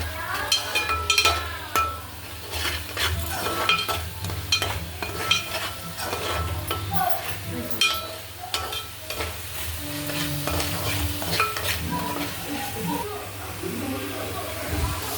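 Ingredients for a gongura prawn curry fry in a pan and are stirred, producing a continuous sizzle with scraping spoon strokes and occasional metal clinks, while someone talks over the cooking.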